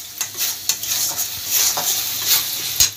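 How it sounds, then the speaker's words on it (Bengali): Katla fish masala with cashews being stirred and sautéed in a pan, a spoon scraping and tapping the pan over a soft continuous sizzle, several distinct scrapes in quick succession. "দিয়ে কষাতে হবে ভালো করে।"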